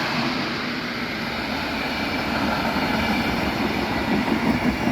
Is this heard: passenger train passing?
yes